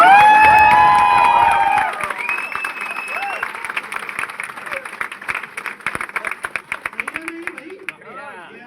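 An audience breaks into clapping and cheering, loud at first and then thinning into scattered claps, with voices talking over it.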